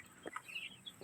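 Chickens on a farm clucking softly at a distance, a few short quiet clucks and squawks in quick succession over faint background noise.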